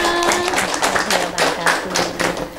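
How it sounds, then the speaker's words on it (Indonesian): A crowd claps in a steady patter of many hands, fairly close, while a voice talks faintly over it. "boleh dong tepuk tangannya"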